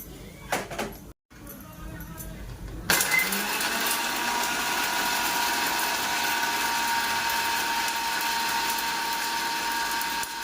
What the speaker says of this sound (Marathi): इथे आपण बिर्याणीचा मसाला वाटून घेऊया थोडी कोथिंबीर थोडे लसूण